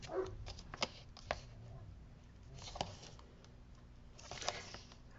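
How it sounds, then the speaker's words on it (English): Pet dogs play outside and bark as they go, heard as a few faint, distant yips and barks coming through a steady indoor hiss. "I wonder if you guys can hear my dogs outside."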